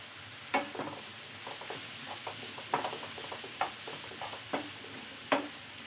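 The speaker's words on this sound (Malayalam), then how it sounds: "സവാള നന്നായി ഒന്ന് വഴറ്റിയെടുക്കാം." Four medium onions with salt sautéing in a pan for an egg roast: a steady low sizzle punctuated by sharp, irregular spatula scrapes and clicks against the pan, close by with no talking.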